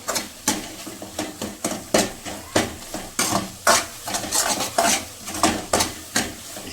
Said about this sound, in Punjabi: ਦੇਸੀ ਘੇ ਨੂੰ ਚੰਗੀ ਤਰ੍ਹਾਂ ਮਿਕਸ ਕਰ ਲਵਾਂਗੇ ਪਨੀਰ ਦੇ ਵਿੱਚ